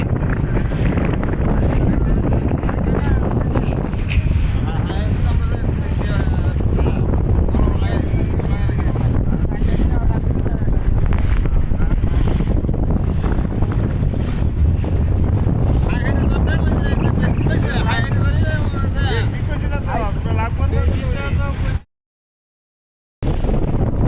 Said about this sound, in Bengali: এদিকের নৌকাতে অনেক যাত্রী উঠছে